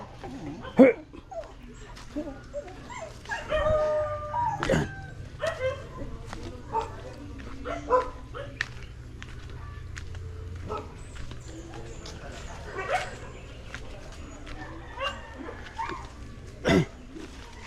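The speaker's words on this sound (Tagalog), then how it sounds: "Naghabulan yung mga aso guys oh" Dogs bark and yip in short bursts while running about, with scuffling and a brief word spoken nearby.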